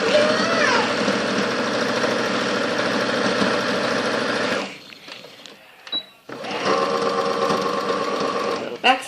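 A sewing machine runs steadily as it stitches down the leg of a pair of newborn pants, a dense continuous whir that halts briefly with small clicks, then resumes for a second long run.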